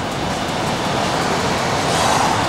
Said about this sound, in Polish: jak dmucha klimatyzacja.